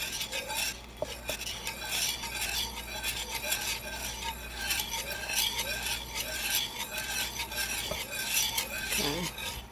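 Spoon scraping and stirring a flour slurry into a pot of pork neck bones, with continuous rhythmic scrapes and occasional clinks over a faint simmering sizzle.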